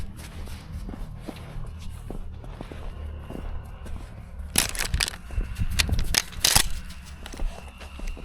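Footsteps push through a thicket during a pheasant hunt outdoors, with soft scattered steps at first, then louder crunching and snapping of brush and twigs in bursts toward the end, close by and without talking.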